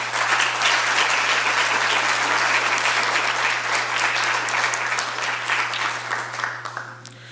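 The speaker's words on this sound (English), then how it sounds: "Ladies and gentlemen, please welcome them with a huge round of applause" A large conference audience at an India-US business event gives loud, sustained applause to welcome the speakers, and the clapping thins out toward the end.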